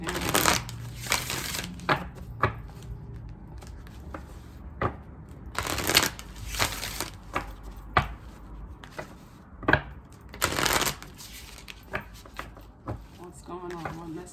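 Oracle and tarot cards are shuffled in repeated crisp riffling bursts, close and loud against a quiet room, with a person talking between the shuffles.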